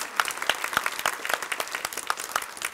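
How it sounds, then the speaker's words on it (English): A small group claps in scattered, uneven beats, fairly close and modest in size, a brief round of applause with no talking over it. "Give him a round of applause."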